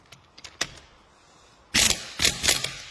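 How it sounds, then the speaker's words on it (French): A torque wrench ratchets while tightening a wheel on a Ford Fiesta. A few soft scattered clicks come first, followed by louder, closer bursts of rapid ratchet clicking with no talk. "Et après, on prend la clé dynamométrique."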